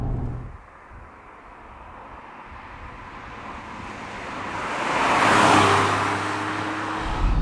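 A Honda NSX drives along a country B road, its engine note rising and swelling as it accelerates and draws nearer, moderately loud over steady road and wind noise, with no voices.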